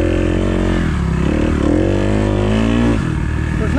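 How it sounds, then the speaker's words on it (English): Dirt bikes fitted with sand tires ride sandy Florida trails at an off-road park, engines droning loudly and continuously with shifting pitch as they rev and pull through the sand, no talk. "So the trails are really sandy, but these bikes have sand tires."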